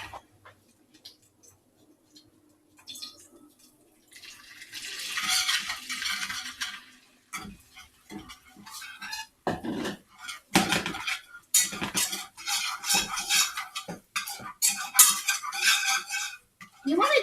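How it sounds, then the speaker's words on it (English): A whisk clinks and scrapes against a pan as it stirs a melted butter mixture for macaroni and cheese, with quiet sizzling at first and then brisk, irregular metallic taps up close. "now our butter is nice and melted, and we're going to add this in and stir it with our whisk"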